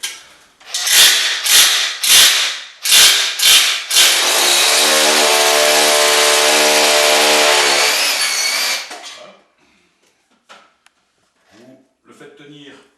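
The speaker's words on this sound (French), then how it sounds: "Vous percez 3 trous à travers rail et béton." A power drill bores holes through a metal rail into a concrete wall while a closet is built. A few short revving bursts lead into one long, loud, steady whine that cuts off, followed by faint handling clicks.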